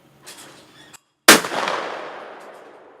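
A faint shotgun report is followed by one loud, close shotgun blast at clay targets that rolls into a long fading echo outdoors.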